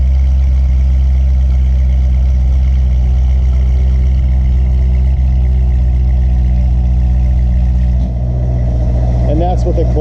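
Corvette C6 Z06 idling with the exhaust closed, a steady, muffled low rumble close by that runs throughout, with a slight shift near the end and faint voices under the engine.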